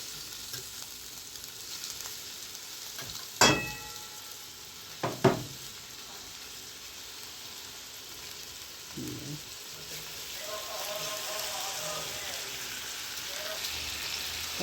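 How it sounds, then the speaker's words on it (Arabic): Chicken breast pieces fry in olive oil with a steady, close sizzle, broken by two sharp clacks a couple of seconds apart as pieces hit the pan. "وهبدا بقى انزل بقطع الفراخ، قطع صدور الدجاج"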